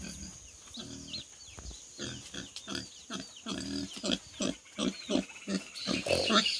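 Pigs grunting on a countryside family farm, a run of short rhythmic grunts and snorts at close range, with children's voices and chatter mixed in around them.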